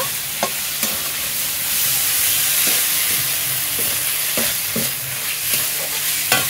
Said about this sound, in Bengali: এবার আমি এর উপরে দিয়ে দেবো সিদ্ধ করে রাখা ডুমুরগুলো। এটাকে মশলার সঙ্গে একটুখানি ভেজে নেব।